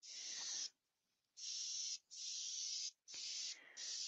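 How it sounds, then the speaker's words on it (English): A spray gun lays down grey primer in four loud, steady hissing bursts separated by short pauses, with no talk. "I'll just spray it with some grey primer."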